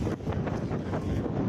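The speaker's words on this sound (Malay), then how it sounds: "Angin kuat." Strong wind at the beach buffets the microphone in a steady, loud, rumbling roar with gusty swells, no talk over it.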